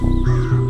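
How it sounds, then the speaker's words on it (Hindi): Harsh crow cawing, a single drawn-out call close by and fairly loud, with steady low tonal sounds running beneath it. "ये सुनकर कौवा चिल्ला रहा था।"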